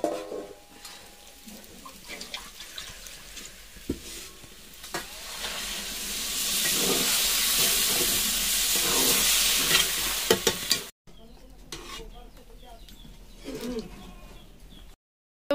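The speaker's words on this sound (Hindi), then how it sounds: "यहाँ पे सुशांति सब्जी बना रही है" A banana and potato curry fries in a pan and is stirred, with scraping strokes and a sizzle that swells into a loud, hissing fry before cutting off abruptly, then quieter stirring.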